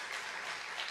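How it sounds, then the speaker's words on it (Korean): A church congregation at an evening revival service gives a round of applause, a dense wash of clapping heard from a distance and fairly faint. "하나님께 영광의 박수."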